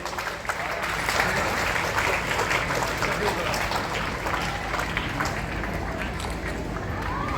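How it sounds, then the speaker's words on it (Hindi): Loud, sustained applause from a school foundation day crowd for two young judo medal winners, a dense unbroken roar of clapping heard in a large noisy space. "इन दोनों के लिए एक जोरदार तालियां हो जाए"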